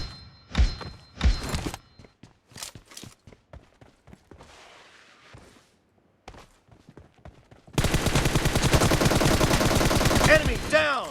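Gunfire in a shooting video game comes as scattered single shots and short bursts, then turns into loud, continuous rapid fire over the last few seconds.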